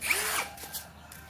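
A power drill drives a PH3 Phillips screw with a screwdriver bit in a close, loud burst of motor whir that lasts about a second, then eases off. No one speaks.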